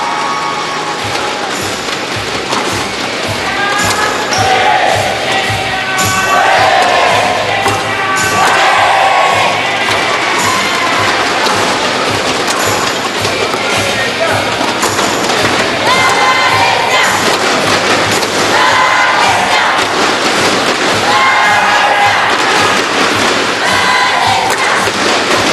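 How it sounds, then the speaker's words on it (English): A loud, dense crowd cheers and roars without a break at the SEA Games 2017 women's squash team final between Singapore and Malaysia. Shouts and chants rise and fall over steady hall noise. "Crowds out in full force at the moment here."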